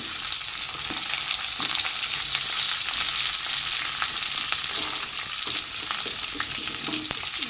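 Whole white cumin seeds frying in hot oil in a pan, a steady close crackling sizzle with scattered sharp pops throughout, no voices.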